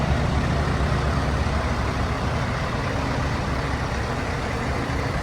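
A steady, loud diesel truck engine at the Skaraborg Truckshow rumbles and idles, its deep exhaust drone continuous throughout with no talking.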